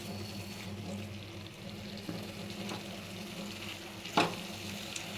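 Fried carrot, potato and vegetables being stirred with spice paste in a pan, giving a soft steady sizzle with faint scrapes and one sharper clink near the end.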